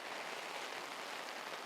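Rain falls in a steady, dense hiss, soft and even throughout with no voices or other sounds over it.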